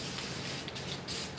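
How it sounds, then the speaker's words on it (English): Thick Flex Seal spray paint hisses from an aerosol can in steady bursts, with three brief louder pulses, close up in a workshop with no voices. "this is giving me a texture because this is a very thick spray paint"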